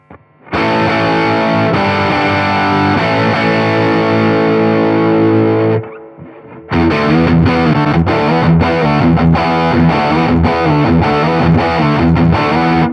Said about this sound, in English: So the next stage of the overdrive and distortion, this is the red pedal, red distortion.